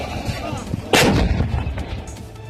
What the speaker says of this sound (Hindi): पंजशीर घाटी में तालिबान ने MMD-30 होवित्जर तोप से गोले दागे।